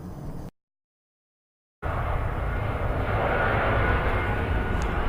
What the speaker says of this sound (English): An airplane's passing by, so that's cool.